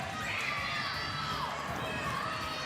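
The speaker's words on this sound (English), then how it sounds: "Oh, they're cheering on Leo." Children cheering and shouting at an elementary school e-sports tournament, a dense, continuous crowd din of excited young voices filling the room, steady and loud throughout with no single voice standing out.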